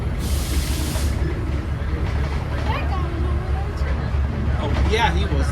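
GE diesel train rolling into Smith Street station, a low steady rumble and rattle of the carriages with a brief hiss at the start, heard from on board.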